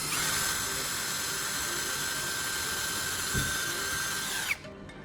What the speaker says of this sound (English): I'll drill a small hole right in the center of each cap.